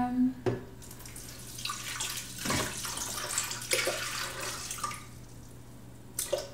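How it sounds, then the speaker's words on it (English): Water pours into a blender for a smoothie, a soft, steady splashing stream with a few brief clinks, heard at moderate distance over a low background hum; a person murmurs briefly. "I'm going to take the water"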